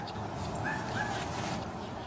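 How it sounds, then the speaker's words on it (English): Small wiener dogs yip and whimper at a distance, heard as faint, brief high calls over steady outdoor background noise. "here comes the little bastard wiener dogs"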